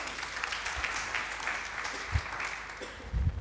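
A worship congregation applauds and cheers in praise during a church sermon, a broad wash of clapping with a few low thumps, moderately quiet and steady for a few seconds.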